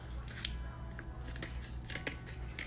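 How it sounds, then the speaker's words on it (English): Scissors snipping through paper to cut out a hand-drawn clover shape for a St. Patrick's Day craft, a series of close, crisp cuts at an uneven pace with quiet room tone behind. "we're going to cut this out"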